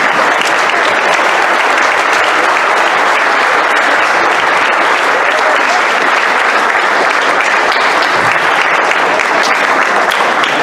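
An audience at a round-table commemoration of the anniversary of Mexico–Philippines relations gives a minute of applause: steady, dense clapping that holds at the same level for ten seconds without pause.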